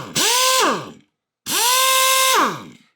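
Craftsman 875 impact wrench run freely in two bursts of about half a second and one second, each a loud whirring whine that rises at spin-up and falls away at the end, with a short silence between them.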